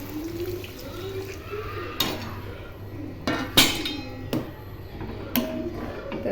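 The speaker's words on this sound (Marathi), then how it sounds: "सो आपलं गरम पाणी झालं आहे कडकडीत आता मी घालून घेते त्यामध्ये" Hot water poured from a vessel into a cooking pan of spiced green cashew curry on a home stove, a steady low splashing pour with a few sharp metallic clinks of utensils against the pan.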